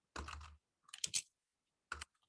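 Typing on a computer keyboard while entering a course name in an online course tool: a short burst of close, crisp key clicks, a brief pause, then a few more taps, with no talk.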